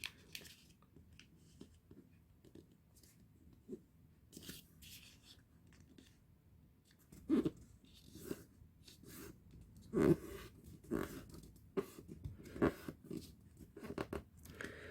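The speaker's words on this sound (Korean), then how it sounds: "자, 돌려놓고 반대쪽도 마찬가지로 접어줍니다." Paper being folded by hand into an origami boat: quiet crinkles and sharp creasing snaps, with a few louder presses and rustles scattered across a soft, otherwise still background.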